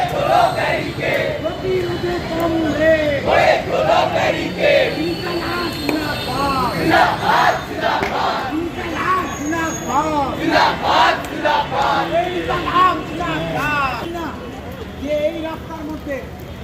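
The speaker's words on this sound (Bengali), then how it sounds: "রাস্তার মাঝখানে টায়ার জ্বালিয়ে তারা কিন্তু স্লোগানে স্লোগানে ভরিয়ে দিয়েছিল কলেজ স্ট্রিটের" SFI student protesters chant slogans in unison on College Street outside Calcutta University, where tyres were set burning mid-road. The rhythmic crowd chanting is loud and close and runs throughout, with voices layered over it.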